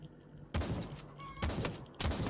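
Shotgun fire in the VR shooter Pavlov during a deathmatch, three loud booming blasts spaced about a second apart, each with a short ringing tail between.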